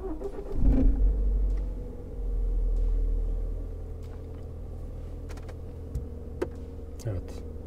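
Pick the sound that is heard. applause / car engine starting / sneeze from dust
car engine starting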